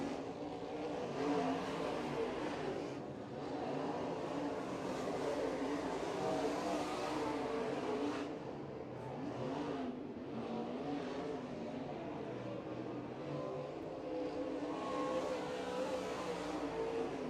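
A modified race car engine drones through a qualifying lap at the East Bay WinterNationals speedway, rising and falling as it circles. Steady and moderately distant, with no talk.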